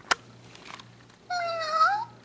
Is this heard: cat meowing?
yes